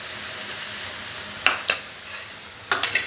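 Onions fry with ginger garlic paste in a pan for egg masala curry, giving a quiet steady sizzle broken by a few sharp spoon clinks against the pan.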